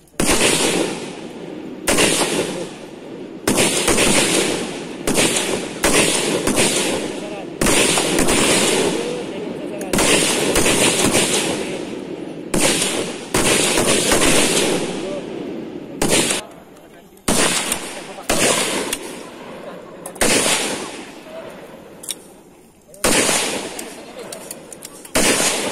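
M16 rifles fire during a national service shooting drill, sharp loud bursts cracking one after another at irregular intervals across the range, with shouted commands between volleys.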